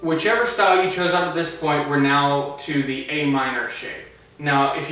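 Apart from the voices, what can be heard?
No everyday noises stand out.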